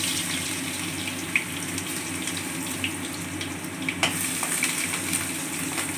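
Garlic fries in about four tablespoons of hot oil over a high gas flame for Indo-Chinese restaurant-style chilli chicken. A continuous close sizzle runs throughout, with small crackles and pops and no talking.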